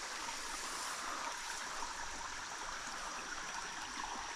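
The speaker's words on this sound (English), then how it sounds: "Alright, we're down here at the creek." Creek water runs softly and steadily outdoors, a faint continuous trickling wash with no break and no talk over it.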